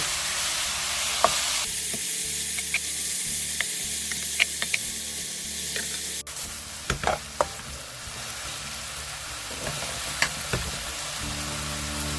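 Pork with onions, cabbage and carrots frying in a pan for a spicy red pepper paste pork dish, a steady loud sizzle with occasional clicks and scrapes of stirring, close up and without speech.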